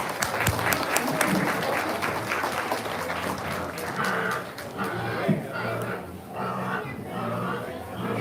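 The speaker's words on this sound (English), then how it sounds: "So let's give them a great round of applause as they head back." Applause and cheering from the crowd at a county hog show as senior exhibitors head back out of the ring, steady and fairly loud throughout with some shouting mixed in.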